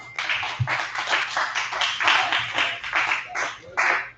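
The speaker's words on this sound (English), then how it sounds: "Might want to just go ahead and keep that applause going." Comedy club crowd applauding between comedians, a dense, lively run of clapping with rhythmic surges that carries steadily for about four seconds, close and fairly loud.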